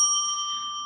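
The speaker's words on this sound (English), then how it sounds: "I'm definitely going to ring the bell since it is a synchronicity" A single small bell is struck during a tarot reading, giving one bright, clear ring that slowly fades.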